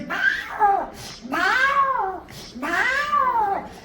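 A person mimics a cat with three drawn-out meows in a row, each rising then falling, close and clear.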